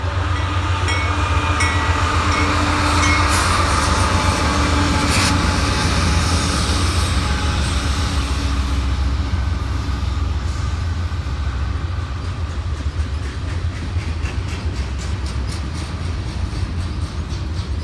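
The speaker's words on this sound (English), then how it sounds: "everybody's favorite trash train, 63V, has shown itself" Freight train 63V hauling loaded trash cars rolls past at Cresson on the Pittsburgh Line, a loud continuous rumble of wheels and wagons with rhythmic clicking, steady throughout and fading slightly toward the end.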